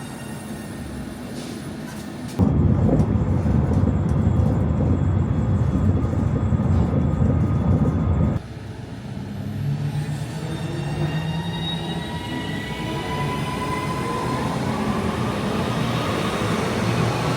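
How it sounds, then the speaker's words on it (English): A Northern rail service pulling into a station on the Crewe to Stockport line, first a loud close roar, then an abrupt drop to a squealing, whining slowdown as the wheels brake, with no voices. "the next train that's coming in, the next northern service"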